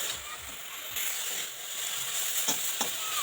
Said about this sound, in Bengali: এরপর নাড়াচাড়া করে একটু শুকনো শুকনো করে নেব এই ধনে পাতাটাকে